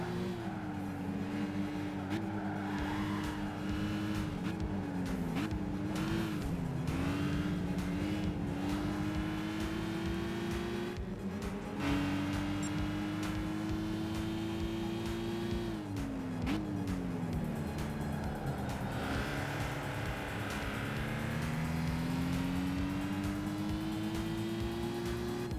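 A Berlinette race car in Gran Turismo 5 revs continuously, its engine pitch climbing and dropping through gear changes, with tire squeals and wall scrapes, loud and sustained for the whole stretch.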